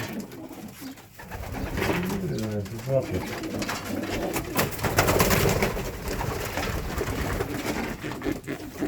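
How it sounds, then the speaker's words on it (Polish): Racing pigeons coo softly nearby in low throaty bursts, mixed with people talking and shuffling noises close by. "To jest piękny gołąb właśnie samczyk"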